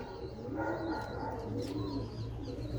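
A flying pigeon's bird coos softly in the background, low rolling calls over a faint steady hum, quiet and somewhat distant.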